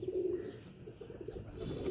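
Teddy pigeons coo quietly at close range, a few low throaty murmurs in a short burst over faint room noise.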